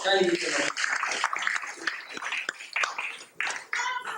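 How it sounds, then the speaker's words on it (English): An audience at a Vyasa Puja gathering applauds in a dense, sustained patter of claps, moderately loud and spread across the room, with voices mixed in. "Can I give a big round of applause?"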